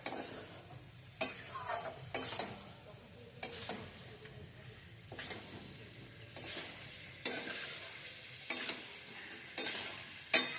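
Spices being stirred and sautéed in a pan for potato curry, a soft steady sizzle broken by repeated scraping stirs at close range, with no talk.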